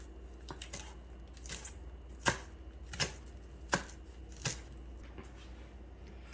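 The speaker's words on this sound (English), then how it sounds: "Now I'm going to take the fresh coriander and I'm going to cut that too." A knife chops fresh coriander on a cutting board for chilli cheese toast, giving a few separate sharp cuts spaced about a second apart, close and fairly quiet over a low steady background hum.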